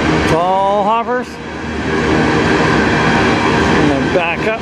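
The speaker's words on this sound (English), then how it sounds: "Train, of course, is the Potash train. It's all hoppers." A CN potash freight train made up entirely of hopper cars rolls past on the Strathroy Subdivision, a steady loud rumble and rattle of wagons throughout, with a rising and falling horn-like tone near the start and again at the end.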